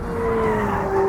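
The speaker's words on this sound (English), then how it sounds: "The McLaren 750S is a purebred mid-engine rear-wheel drive supercar with 750 horsepower and that big V8 that sounds incredible." A McLaren 750S mid-engine supercar's V8 on a race track, a loud, steady engine note with a gradually rising pitch, heard close and alone with no talk.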